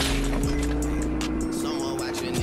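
A car drives in the Fortnite video game with a steady engine hum and low rumble that holds throughout, while game sounds and voices mix in over it.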